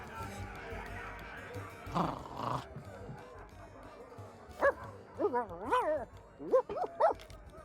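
A dog in the video game Sea of Thieves gives a series of short yips and whimpering barks toward the end, preceded by quieter ambient game sound and a faint voice.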